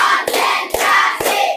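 Hands clap in a steady rhythm during a classroom concentration clap game, three evenly spaced claps, loud and close, over a busy room background.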